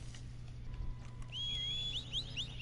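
A horse whinny called up in a video game rises as a bright, wavering cry midway through and repeats in short bursts over a steady low electronic hum.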